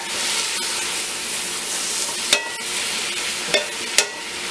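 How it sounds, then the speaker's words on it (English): Shallots, garlic and leeks sauté in a pot with a steady, close sizzle, and a few sharp scrapes of stirring break through near the end. "Let the shallots, garlic, and leeks all mix up in here."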